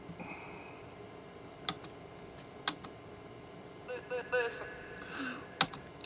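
Chopped-up vocal lyric edit in a studio mix, short clipped voice fragments and sharp transient hits landing in an uneven rhythm over a quiet background, with a brief filtered burst near the end.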